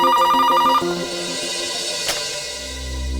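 A telephone rings in a police office with a quick repeating electronic trill, then stops and leaves a quieter, sparse background with a faint click.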